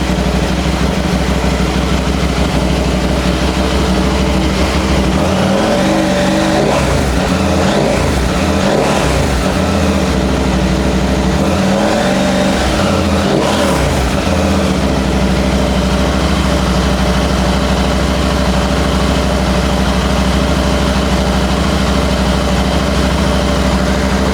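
Steady engine drone from a 2023 CFMoto 800MT Explore motorcycle fitted with an aftermarket mid pipe, underway on a ride, with throttle swells and a persistent low rumble throughout and no talking.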